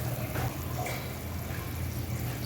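Water at a rolling boil in a pot ahead of cooking village-style chicken pulao, a soft continuous bubbling and hiss heard close up, with no voices.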